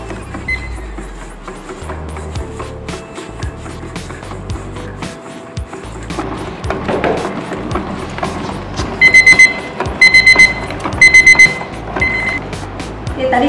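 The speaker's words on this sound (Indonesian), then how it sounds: "Tadi sudah 5 menit, timernya sudah bunyi" A kitchen timer goes off during a cooking demonstration, ringing in three short bursts near the end, loud over the whir of a running mixer.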